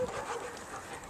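A dog on an outdoor walk gives a few short, soft yips and whimpers, faint against an airy open-air background.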